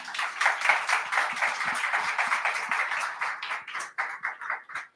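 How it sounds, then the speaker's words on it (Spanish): Audience at a book presentation for Carlos Granés's 'El rugido de nuestro tiempo' claps in a dense, steady round that thins into scattered separate claps toward the end. "os pido, por favor, un fuerte aplauso para Carlos Granés y para Neus."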